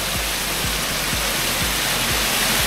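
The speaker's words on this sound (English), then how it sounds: "Surprise waterfall!" A waterfall near Bergen, Norway, gives a loud, steady broadband rush that stays unbroken throughout, with faint low rhythmic thumps underneath and no voices.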